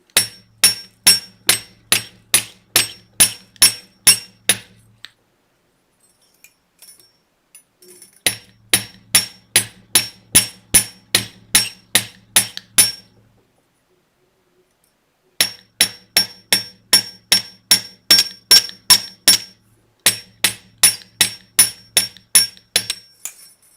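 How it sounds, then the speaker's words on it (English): Rapid metallic hammer blows ring out in three long bursts while shaping a metal pendant, each a steady run of a dozen or so strikes, separated by short pauses of quiet. "So I'm going to start hammering over here."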